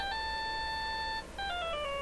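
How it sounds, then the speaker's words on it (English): Cell phone ringing in the Ace Attorney video game, a clean electronic ringtone with a sustained tone, a short gap, then a descending series of notes, clear and moderately quiet. "All of a sudden, the phone began to ring."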